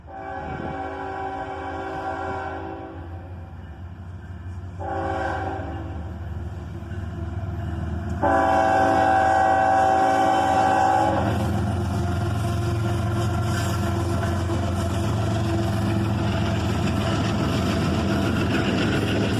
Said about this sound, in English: The Southern Heritage Unit leads a 4-locomotive Norfolk Southern train.